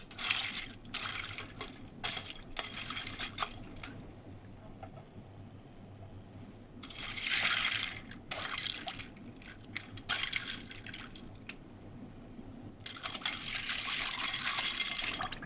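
Blanched green vegetables dropped into ice water in a kitchen, with bursts of splashing and sloshing separated by quieter gaps, fairly close and soft overall, no speech.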